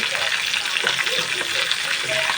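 Fish frying lightly in a pan in a home kitchen, a dense, steady sizzle and crackle that fills the whole moment, close and fairly loud, with faint voice-like murmurs underneath.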